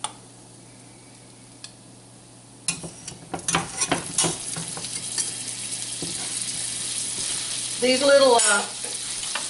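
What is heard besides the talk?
butter sizzling with pecans in frying pan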